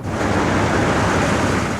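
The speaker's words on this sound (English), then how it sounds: "The sea's real choppy, though. Very choppy out there, very windy." Rough sea surf churns under strong gusting wind from Hurricane Edouard that buffets the microphone, a dense continuous roar with no speech.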